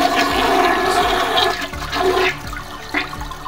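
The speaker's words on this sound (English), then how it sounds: "A toilet flushing is..." A toilet flushing indoors, a loud rushing surge of water that swirls and gurgles for a few seconds, then tapers off with trickling refill sounds close by.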